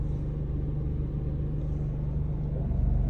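Steady low idle rumble from a 2017 Chevrolet Trailblazer engine as the transmission is shifted into drive, which has a fault where the car hesitates two to three seconds before moving; constant and close with no talk.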